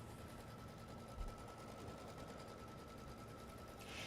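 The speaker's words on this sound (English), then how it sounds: "Now I'm going to go ahead and run the squaring stitch and the tacking stitch for everything that we need in black" An embroidery machine stitches squaring and tacking lines in black thread on a folded fabric border block, giving a steady, fast mechanical whirr that runs evenly throughout at close range.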